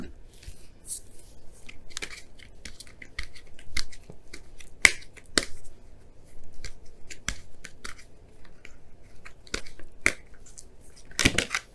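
Oracle cards handled and pulled from a deck during a tarot reading, a series of quiet, scattered snaps, flicks and shuffling rustles close by, irregular in rhythm.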